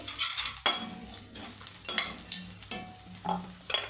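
Chilli powder fries briefly in hot oil for a cabbage curry, a quiet sizzle broken by sharp clinks and scrapes of a spoon stirring the pan.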